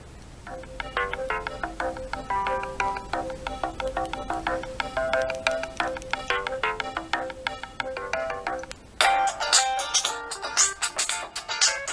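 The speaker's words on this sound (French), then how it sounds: "On va aller dans les sonneries." Ringtones on a Sony Xperia M4 Aqua phone play one after another, clear tonal melodic chimes in a repeating rhythm, switching to a brighter, busier tune near the end.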